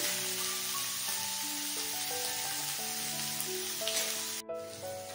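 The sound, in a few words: bitter gourd sautéing in oil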